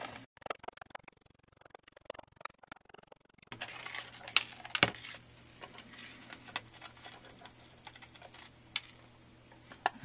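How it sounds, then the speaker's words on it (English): Screws being removed from a Sega Genesis USB hub, with dense, close, irregular metallic ticks and scrapes from the screwdriver and plastic case over a faint steady hum. "to take this apart, there's just the four screws in the corners"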